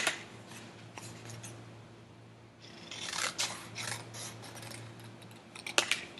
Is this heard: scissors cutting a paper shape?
yes